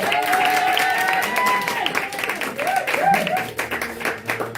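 A congregation in a church applauds, a rolling wash of clapping mixed with voices and tonal sounds, steady throughout.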